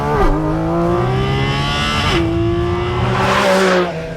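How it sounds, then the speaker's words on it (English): Porsche Cayman GT4 RS with a GT3 engine revving hard on a winding road, its loud high-pitched engine note rising and falling through several gear changes, with a faint tire squeal near the end. "a Cayman with a GT3's engine. Listen to that!"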